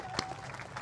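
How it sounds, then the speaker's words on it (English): A brief burst of applause from a crowd after a mixed doubles gold medal match, steady clapping with a few sharper claps standing out, fairly close and continuous. "give them a big round of applause"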